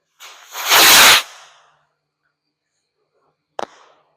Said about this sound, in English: A little sky missile.